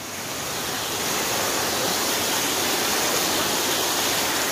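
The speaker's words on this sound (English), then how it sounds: "The road is flooded!" Storm water rushes steadily across a flooded road, a loud, continuous broadband roar like a waterfall that holds without a break.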